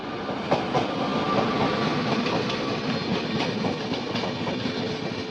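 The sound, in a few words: Puri–Sealdah Duronto Express train running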